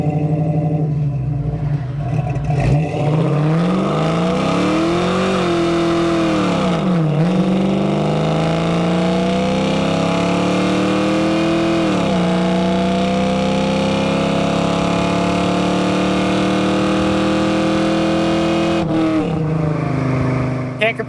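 A 1965 Ford Mustang coupe with a 302 V8 pulls away from a dead stop, the engine note climbing through several gears with rising and falling revs, loud and close, steady throughout.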